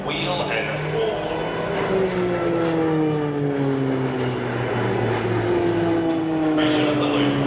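Propeller planes of the RAAF Roulettes aerobatic team fly in formation at the 2015 Australian International Air Show at Avalon, a loud sustained engine drone sliding lower in pitch as they pass, under an announcer's commentary.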